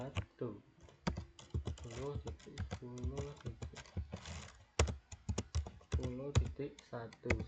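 Quick keyboard clacks typing a ping command on a computer keyboard, scattered sharp taps mixed in with someone talking over them.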